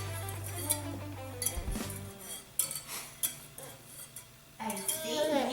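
A spoon clinks and scrapes against a bowl as a homemade gummy mixture is stirred, with irregular knocks and light clattering of dishes close by and brief voices in the background.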